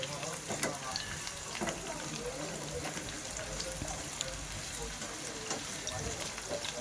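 Bitter gourd pieces deep frying in hot oil until brown: a constant broadband sizzle with bubbling crackle and occasional sharper pops, steady and close, with no voice over it.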